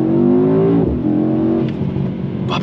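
A 2022 Mercedes-AMG E63 S launched from a standstill at full throttle, its engine roaring loud and close with a rising pitch, then a shift and a renewed surge before some crackling pops near the end.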